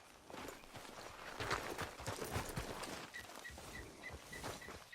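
Horse hooves clip-clop at a steady walking pace in the Red Dead Redemption 2 video game, fairly close and continuous, with light ambient background and brief chime-like tones near the end.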